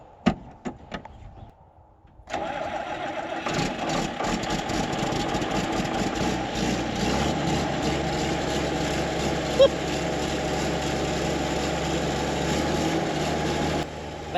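An old tractor on a cotton farm cranks and fires, then settles into a steady, loud idle that runs continuously, with a few knocks and clicks at the start before the engine catches.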